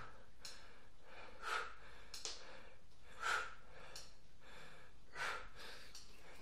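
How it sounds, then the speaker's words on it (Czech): A man breathing hard during midnight push-ups, heavy audible breaths and gasps coming in a rhythmic pattern roughly every two seconds, close and fairly quiet, with no talking. "Už oddechuje stěžka."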